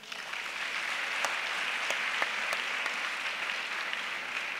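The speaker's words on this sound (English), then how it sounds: "I would like us to give Fumi Roberts a round of applause." Sustained applause from a conference audience, a steady, moderately distant wash of many hands clapping that runs evenly throughout with a few sharper individual claps standing out.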